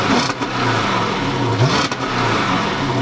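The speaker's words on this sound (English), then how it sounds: "turn on the engine" A Dodge Charger police interceptor engine, an ex-police pursuit car, runs steadily close by with a low, throaty rumble and a brief rise in revs near the middle, with no talking.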